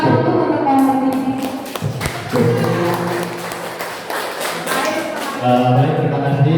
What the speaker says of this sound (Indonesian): Tepuk tangan dulu untuk Pak ini.